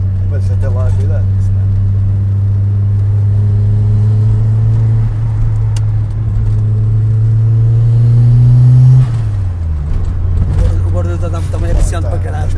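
A Volkswagen Polo Turbo's engine revs up close, its pitch climbing steadily before dropping sharply as the car shifts, then settling back into a steady rumbling drone.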